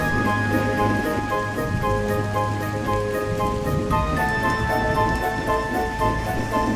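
Steady rain pours down continuously, a dense wash of falling water with a faint tonal hum running underneath throughout.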